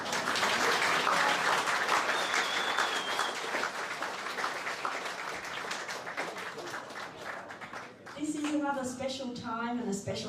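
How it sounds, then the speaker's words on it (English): Wedding reception crowd applauding the speakers, a dense steady wash of clapping with voices and cheers mixed in, continuing loudly throughout while a sustained tone rises near the end. "please give one big round of applause to all of the speakers tonight"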